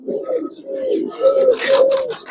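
Pigeons at a Giribaz and coloring pigeon farm coo in soft, rolling low calls, repeating steadily up close, with a brief flutter of wings near the end.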